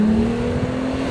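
A car pulling away after repairs in a workshop, its steady engine hum holding close and fairly loud for about a second with no talk over it.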